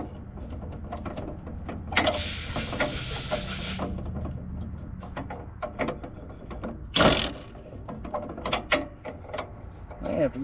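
Wrench ratcheting on crusty spring bolts of a White 6180 tractor: repeated close clicks and scraping clunks in irregular bursts, with a couple of louder metallic rasps standing out.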